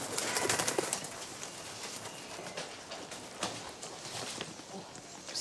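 A turtle dove held in a small net, with soft close rustling and fluttering of wings and scattered faint bird sounds, over a steady outdoor background.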